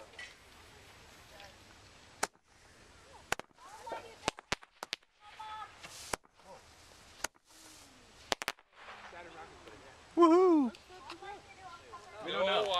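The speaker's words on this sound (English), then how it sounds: "Oh, it's a firecracker." Firecrackers crack sharply several times in a scattered series on New Year's Eve, outdoors with family, while people talk and call out around them; a rising, whistling squeal near the end.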